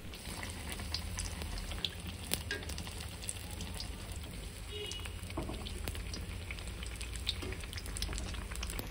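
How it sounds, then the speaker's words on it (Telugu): Brinjal slices coated in batter and grave paste fry in hot oil over a medium flame, giving a steady, dense bubbling sizzle with occasional pops throughout. "గ్రేవీ పేస్ట్ రాసిన వంకాయ చిప్స్ పిండిలో ముంచి నూనెలో వేయించాలి"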